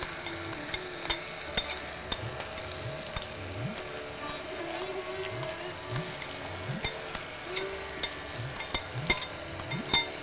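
Washed rice is stirred into a sizzling pot for pulao. A spoon clinks and scrapes against the metal in an irregular rhythm over a soft, continuous frying hiss, close by and with no speech.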